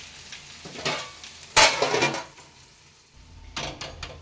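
Sarvapindi, a rice flour flatbread with bottle gourd, cooking in a pan while it is flipped and covered: a low sizzle with loud bursts of frying hiss and metallic clatter of a lid and utensils against the pan.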